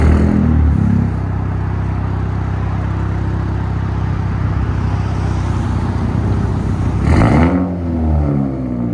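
A 2021 Honda Accord Sport with a 2.0L turbo engine, down pipes and straight-piped exhaust idles loudly and close, then gives a sharp rev near the end that climbs and falls back.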